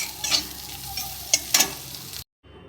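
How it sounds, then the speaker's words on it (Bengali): Bitter gourd frying in a pan gives a steady close sizzle, broken by a few sharp crackles and stirring scrapes, before cutting off abruptly. "গাছের উচ্ছে, তাই সেটাকেই ভাজছি"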